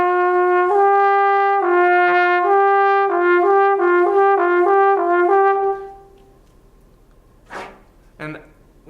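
Trombone exercise of clear sustained notes shifting between F in first position and G, played in a steady stepwise pattern, followed by a few brief soft sounds after the playing stops.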